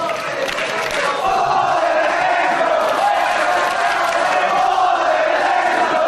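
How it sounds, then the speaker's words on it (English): A capacity wrestling crowd at an Irish Whip Wrestling show in the SFX fills the arena with a loud, sustained chant, a dense roar of many voices that swells after the first second and holds steady. "the crowd break into a chant for the Fallen Angel"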